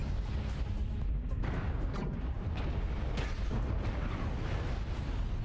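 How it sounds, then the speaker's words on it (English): Artillery strike explosions in MechWarrior Online, a dense run of heavy booms and bursts rumbling one after another over a constant loud low roar of battle. "Artillery strike spotted"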